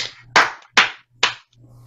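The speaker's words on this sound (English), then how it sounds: "give yourselves a round of applause" Three sharp, close hand claps spaced evenly apart, each a crisp single smack, over a faint low background hum.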